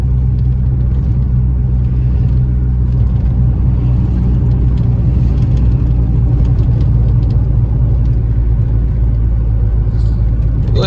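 A Volkswagen Gol with a 1.6 AP engine roars steadily under acceleration, a loud, continuous low rumble heard from inside the car for the whole stretch.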